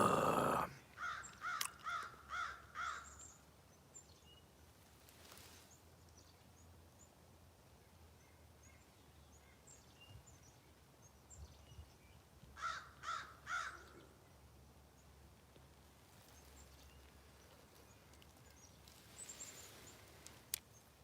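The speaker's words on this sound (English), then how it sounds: "Got some birds." Crows caw in quick runs of several harsh calls, first at the start and again about halfway through, with quiet outdoor air between the bursts.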